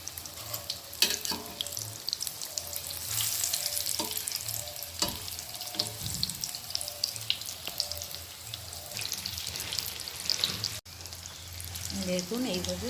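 Potato and egg snacks fry in a little oil in a pan, giving a steady crackling sizzle that runs throughout with occasional clinks and stirring sounds close by.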